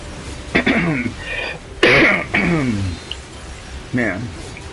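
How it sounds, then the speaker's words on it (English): A man livestreaming the game Nier: Automata clears his throat and coughs in several loud, close bursts, with brief pauses between them. "Let me clear my throat"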